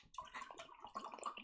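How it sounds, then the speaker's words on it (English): Water is poured into a whiskey glass in a short, very faint gurgling splash with little trickles, heard close but quiet and alone. "Pour some more water."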